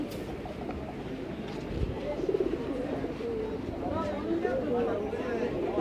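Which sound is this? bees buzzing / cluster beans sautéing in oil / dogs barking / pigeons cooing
pigeons cooing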